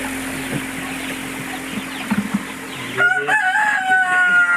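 Roosters among a flock of white jungle fowl chickens crow repeatedly near the camera, with clucking and farmyard background noise; the later crows are louder and clearer.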